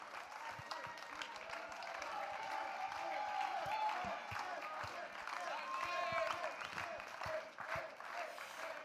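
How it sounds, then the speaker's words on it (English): An audience applauding at the Microsoft Excel World Championship finals, steady rhythmic clapping from a crowd that carries through the whole stretch, with some faint voices underneath. "Keep the claps going"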